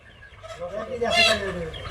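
Coloured broiler chickens cluck and squawk close by, one rising into a loud harsh call, with a person's voice mixed in the background.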